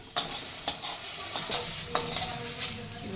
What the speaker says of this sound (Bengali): টমেটোটা ভেজে নেবো একটু